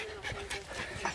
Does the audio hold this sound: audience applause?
no